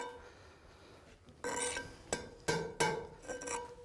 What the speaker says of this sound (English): come back out here and just do a few licks on the hammer